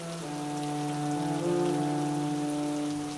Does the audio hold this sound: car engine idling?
no